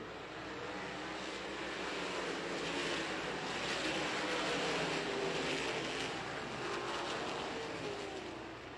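Sprint cars race four wide in a pack at Eldora Speedway, a steady, dense engine roar that swells slightly in the middle, with no talk.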